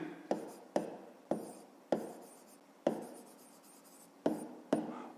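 Pen or marker strokes on paper or a board during a fifth-grade maths lesson, a series of short, sharp taps and scratches, about eight of them spaced irregularly, close and moderately quiet with no talk.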